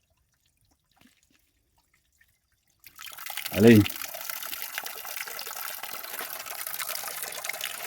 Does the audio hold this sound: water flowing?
yes